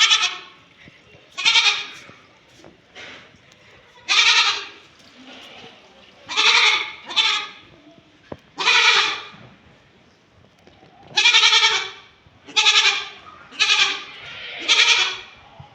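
A goat bleats loudly and repeatedly, about a dozen drawn-out calls separated by short pauses, some coming in quick pairs, with quiet background between them.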